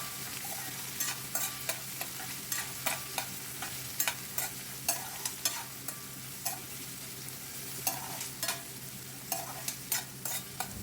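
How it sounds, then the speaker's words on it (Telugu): Chana dal, green chillies, curry leaves and broken dried red chilli fry in hot oil as a tempering, a steady soft sizzle punctuated by regular scraping stirs of a spoon in the pan. "పోపు అంతా కూడా బ్రౌన్ కలర్ వచ్చే వరకు వేయించుకోవాలండి"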